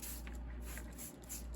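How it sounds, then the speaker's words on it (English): Water-soluble plant nutrient sprayed onto near-dead plants, a continuous close hiss of mist with faint pulses from the sprayer. "we're just gonna spray these guys."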